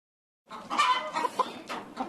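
Backyard chickens cluck in a steady run of short, close calls, overlapping one another with nobody talking.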